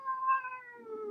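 A house cat gives a single clear, drawn-out meow that falls in pitch, close by and alone in a quiet room.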